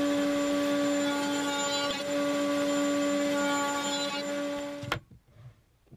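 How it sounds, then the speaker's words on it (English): A router on a router bench cuts plywood, a loud steady high-pitched whine that holds for about five seconds before cutting off abruptly, followed by faint handling sounds. "Then I can make the finished cut in a single pass, quickly and easily, on the router bench."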